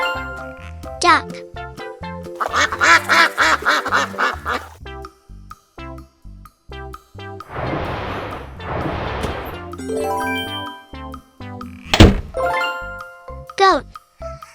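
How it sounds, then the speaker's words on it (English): A children's farm-animal learning track with duck quacks: two dense, honking quack bursts over a bouncy jingly tune, with a voice and music around them. "Duck."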